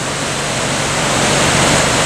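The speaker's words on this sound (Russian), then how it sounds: "Великолепная река." The wild Kisha mountain river rushes at its mouth in a Caucasus gorge, a loud, close, unbroken roar of churning whitewater with no other sounds.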